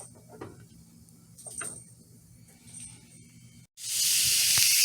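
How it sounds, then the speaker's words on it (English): Green pepper and onions drop into olive oil to sauté. After a quiet stretch of low hum and faint kitchen clatter, a loud, steady sizzle bursts in and keeps going. "I had put the green pepper and the onions in with a little bit of olive oil. We're going to let them saute for a few minutes"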